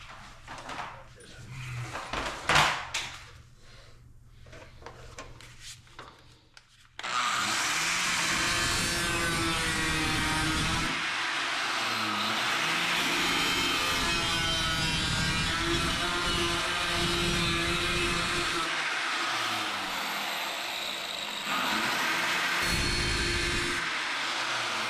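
A piece is cut out of a 1967 Chevelle door. Several seconds of quieter handling and tapping come first, then a loud power cutting tool grinds through the metal steadily for the rest of the time, with only brief dips.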